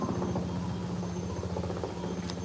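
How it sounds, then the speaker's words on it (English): A helicopter flies by with a steady rapid rotor thump and a low engine drone, continuous and fairly distant, alone without voices. "A literal helicopter."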